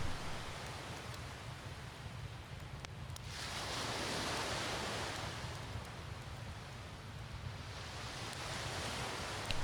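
Ocean waves roll and wash in a steady, broad hiss that swells and recedes in slow surges, continuous and moderately loud with no voices.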